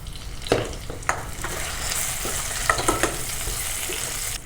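Onions fry in oil with cumin and mustard seeds for a fenugreek-leaf tomato curry, giving a steady close sizzle broken by several sharp spatula taps and stirring scrapes, with no talk.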